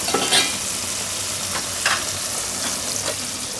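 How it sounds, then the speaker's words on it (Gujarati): Peeled ridge gourd (galka) sizzles in hot oil in a home kitchen pan. A constant frying hiss runs throughout, broken by a few brief scraping stirs. "તો ગલકા આપણે તેલમાં 2 મિનિટ જેવું પકાવશું એટલે એકદમ પાકી જાય."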